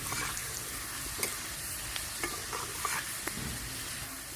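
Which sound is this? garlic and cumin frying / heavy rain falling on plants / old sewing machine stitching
garlic and cumin frying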